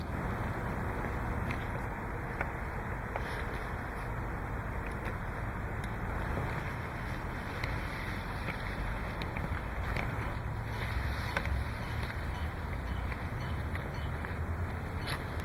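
Steady wind rushes and buffets outdoors at a hammock setup, a constant broadband roar with small gusty bumps across the whole stretch and no voices.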